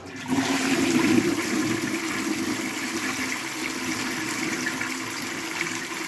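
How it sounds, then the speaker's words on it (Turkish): A leaking toilet cistern is flushed empty after its supply valve is shut, a strong gush of water tapering into a steady draining and refilling rush. "Vanamızı kapattıktan sonra sifonun içindeki suyu boşaltıyoruz."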